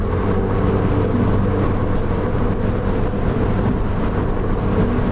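Engine-swapped NC Miata with a 2.5 engine, clutch slipping above 3,000 RPM, heard from inside the car as a loud, steady drone of engine and road noise with no distinct change in pitch.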